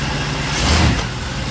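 A car engine revs briefly in drive during a motor mount check, a steady mid-pitched engine drone that swells slightly in the middle and then eases off, close and continuous, with no talk.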